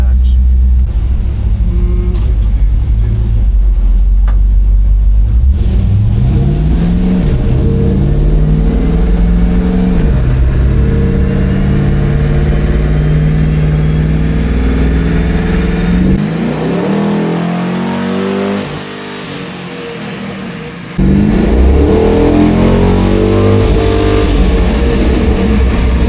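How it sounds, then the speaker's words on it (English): Stock-build car on a dyno during a third-gear pull, engine roaring loud and close as the revs rise in long sweeps, dropping off briefly before surging again, with some talk underneath. "We'll do a pull with it"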